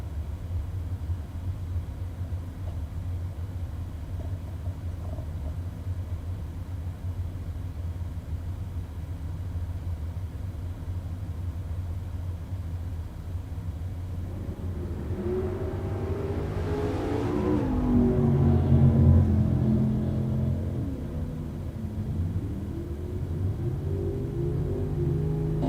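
A '69 Camaro and an El Camino drag racing at a bracket race make a pass, a steady distant engine rumble swelling into a louder roar of revving that peaks and then eases off.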